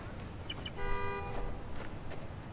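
A car horn blares in one sustained honk of about half a second in the Spider-Man: Miles Morales video game, heard amid city street noise with faint clicks before it.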